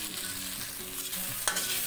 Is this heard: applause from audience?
no